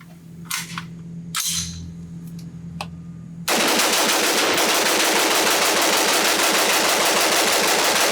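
Colt M5 Carbine rifle emptying a magazine at a shooting range: a few single clicks and handling sounds, then a sudden sustained burst of rapid, loud, continuous gunfire lasting several seconds.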